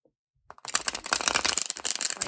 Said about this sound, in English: I prefer to shuffle it like